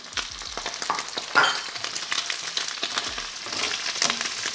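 Sliced red onion sizzles in hot oil in a pan, a close, continuous frying hiss broken by quick tossing scrapes and light clatters, with no talking.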